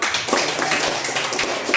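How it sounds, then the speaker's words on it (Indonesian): A class of students claps their hands after a quiz on whole numbers, a steady near burst of clapping with a few voices. "Tepuk tangan, Tuan."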